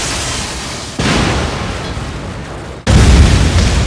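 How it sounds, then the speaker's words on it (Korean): Giant lightning strike from the anime film Weathering with You, heard as deep, loud booming thunder blasts, with a sharp cut in at about one second and another heavy crack near three seconds. "거대한 번개가 떨어지고"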